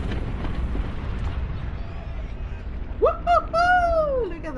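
A deep, rolling rumble of a video game explosion fades out, then a voice with a rising and falling exclamation follows.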